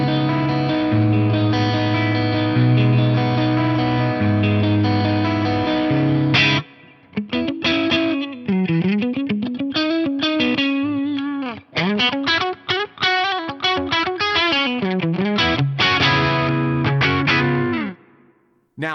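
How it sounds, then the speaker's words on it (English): Electric guitar run through a VP4 processor reverb: sustained chords ringing out with a long wash of reverb, then a string of quick picked notes and bends, each trailing off into spacious, lingering ambience. "I think I've got a great sounding reverb for electric guitar"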